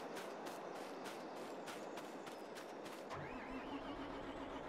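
Tractor engine in the Farming Simulator 22 video game on a Wyoming farm map, a steady mid-pitched drone running throughout with rhythmic clatter at first, then a smoother continuous hum with a faint whine near the end.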